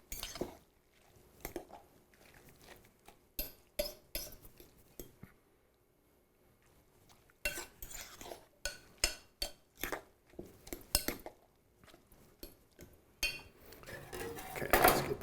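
A spoon stirs grated potato latke batter with egg, pepper and flour in a bowl, making close, irregular clinks and scrapes against the dish with brief pauses between rounds of mixing.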